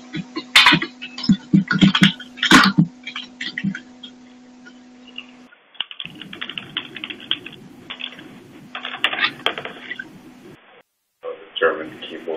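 Typing on a German computer keyboard during an online community meeting, with rapid, close clicks and key clatter in irregular bursts, mixed with background voices talking.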